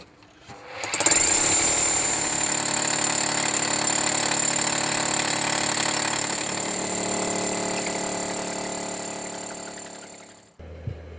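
A drill bores small holes into the exterior wall of a house to install cavity wall insulation. It makes one loud, close, continuous hammering whine lasting about nine seconds before it cuts off.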